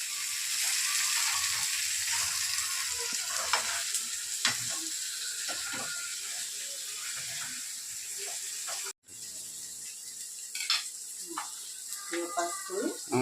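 Eggs frying in a pan with salt and chili powder, a continuous crackling sizzle with stirring clicks, a brief cut near the middle and quiet speech underneath.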